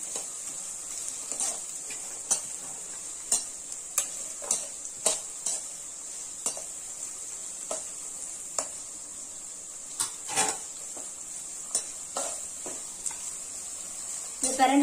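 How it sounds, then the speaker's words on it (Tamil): Adamant creeper (pirandai) sautés in oil in a pan with a steady soft sizzle, punctuated by scattered clinks and scrapes of a spoon stirring, close up. "பிரண்டை வந்து ஃபர்ஸ்டே வந்து எண்ணெயில வந்து நல்லா வதக்கி விட்டுடுங்க"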